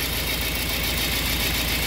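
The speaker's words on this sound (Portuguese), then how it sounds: "E o motor ficou mais rápido, tá só com dois cilindros agora, né?" A 2002–2009 Toyota Corolla engine with an ignition coil fault runs on only two cylinders, giving a steady, loud, dense mechanical roar close up with no pauses.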